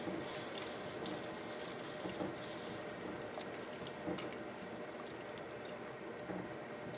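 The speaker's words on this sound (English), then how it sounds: "we're getting into a boil here now" Chicken soup coming to a boil in a pot, a steady bubbling and rushing water sound throughout with faint clinks, close and continuous with no talking.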